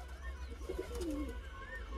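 Soft pigeon coos, a low warbling call rising and falling over a faint steady hum, fairly close.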